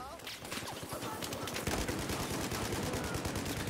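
Rapid gunfire from a weapon in Battlefield 4, a dense, continuous burst of shots that thickens after the first second and a half, running loud alongside people talking.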